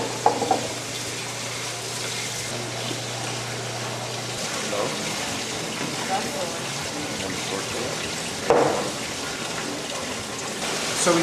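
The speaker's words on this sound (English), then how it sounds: "So we finished rinsing off our eggs, and now they're all nice and clean." Salmon eggs rinsed in buckets with running water, a steady close wash of splashing and trickling that continues throughout, with a couple of louder sloshes and brief voices in the background.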